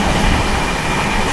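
A short burst of the 12907 Maharashtra Sampark Kranti Express speeding from Mumbai toward Delhi, a dense, loud, steady roar of rolling wheels and carriages with no speech.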